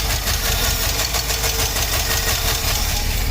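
A square body truck engine idles steadily with a loud, close, rough rumble and a faint knocking pulse, continuous throughout with no talk.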